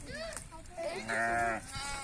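A lamb bleats in short, high, wavering cries, fairly faint, with a bit of background voice.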